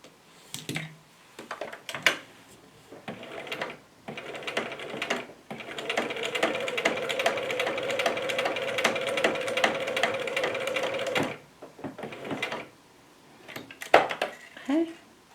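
A sewing machine runs in rapid mechanical stitching bursts, with a long steady run in the middle and shorter starts and stops around it as the fabric is turned at an angle, all close and clear.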